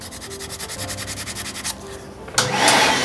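Hand-carving or scraping a wooden quena flute: rhythmic rubbing strokes on wood, close and steady, then a brief pause and a louder rasping scrape, with no talking.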